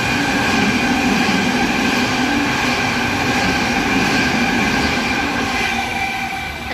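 A fast non-stopping train thunders through Heathcote station on platform 1, a loud continuous roar of wheels and rails with tonal whine, steady throughout and fading slightly at the end, with no voices.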